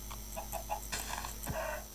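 Chickens cluck in the video game Minecraft, a few short clucking calls spread across two seconds over a steady background hum, with no talking.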